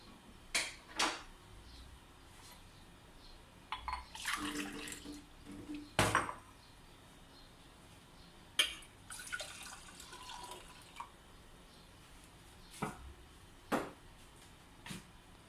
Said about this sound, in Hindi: ये सेम सेम छोटा ग्लास की तरह उसमें पानी डालता है